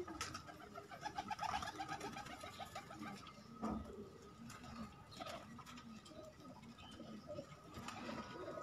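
Paired pet pigeons coo in soft, repeated rolling calls, close but quiet, over a faint background hiss with an occasional brief knock.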